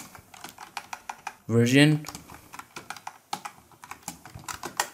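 Rapid keystrokes on a computer keyboard as a command is typed into a Windows 11 terminal, steady close clicking throughout with a brief spoken word in the middle.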